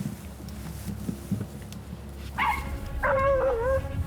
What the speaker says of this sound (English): The bay dogs are hot on the trail of the boar